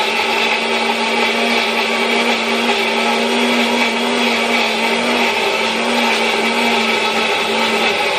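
A mixer grinder whirs loudly and continuously as it grinds fish curry masala into a paste, holding a steady, unbroken motor whine with no other sounds.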